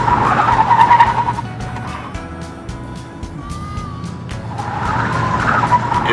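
A car drives prescribed figure-eight patterns on a practice course. Its tires squeal loudly through the opening turn, ease off mid-loop as the engine hums steadily, then squeal again into the next bend.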